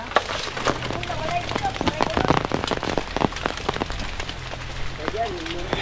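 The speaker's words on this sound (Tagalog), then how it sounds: "Ulan ng ulan." Rain pattering and dripping onto a surface, with sharp, irregular drop hits throughout and faint voices murmuring in the background.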